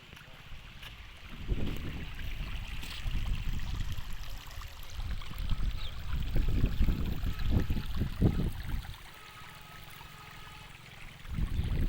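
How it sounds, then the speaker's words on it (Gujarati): Village river water flows and rushes close by, a continuous churning wash that swells in surges across the stretch, with wind buffeting in places. "અહીંથી પાણી જાય છે"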